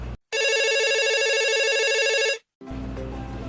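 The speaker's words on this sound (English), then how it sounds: "Correct! A telephone has a loud sound." A loud telephone ring sounds as a single continuous electronic burst of about two seconds, stopping sharply before another sound begins.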